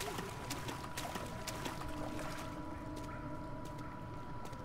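Steady wading and splashing through water in Amnesia: The Dark Descent, a continuous murky sloshing with scattered small splashes, fairly faint and close, with no talking.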